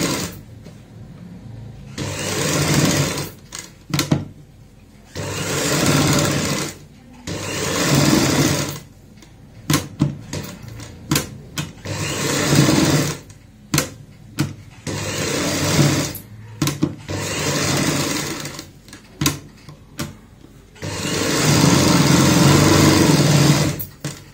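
A domestic sewing machine stitches a seam on a designer baby frock, running in repeated bursts of rapid whirring that start and stop with short pauses between.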